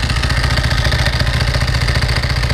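A 1995 Ducati 900SS SP idles with a steady, loud engine pulse, its dry clutch and belts adding a continuous metallic clatter and rattle throughout, with no voices over it.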